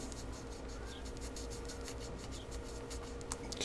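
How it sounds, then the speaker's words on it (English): An X-Acto knife slices through a cardboard model rocket body tube, giving a close, steady scraping rasp with faint ticks of the blade, heard alone over a low room hum. "So we're just going to take the knife"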